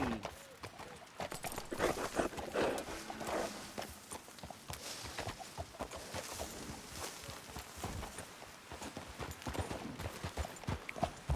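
Horse hooves clip-clopping in the open world of the video game Red Dead Redemption 2, a steady rhythmic run of hoofbeats with busy ambient noise, under a voice urging the horse on.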